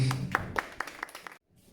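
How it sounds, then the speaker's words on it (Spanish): A church congregation claps in a rhythmic, evenly spaced beat, about a dozen sharp claps at moderate distance before stopping abruptly, with faint voices mixed in. "Denle un fuerte aplauso a nuestro Dios."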